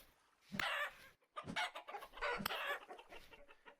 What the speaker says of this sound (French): j'entendais encore une poule